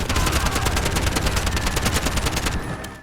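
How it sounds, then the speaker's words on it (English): Rapid, dense bursts of gunfire from the first-person shooter game Bright Memory: Infinite, sustained loud automatic fire with sharp repeated cracks that cuts off near the end. "the gunfire sounds great"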